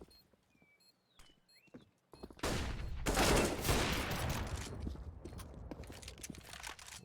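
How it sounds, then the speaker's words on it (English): Rapid rifle gunfire from AK-47 and AWP rifles in a Counter-Strike match, a sudden loud burst of overlapping shots and impacts after quieter game sounds, continuing densely to the end. "Walker trades back close range with that AWP. Garrett, though, gets the final save with 2 AK-47 headshots in Synthetic"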